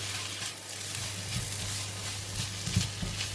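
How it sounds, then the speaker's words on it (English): Fried rice seasoned with soy sauce and sugar sizzles in a pan while being stir fried, a steady close hiss broken by a couple of soft scraping stirs. "You just continue to stir fry until the rice is"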